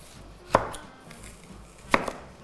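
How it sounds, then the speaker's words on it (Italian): A knife slices onions on a cutting board in two sharp, separate strikes about a second and a half apart, close and crisp against a quiet background. "Prendiamo le cipolle e le affettiamo."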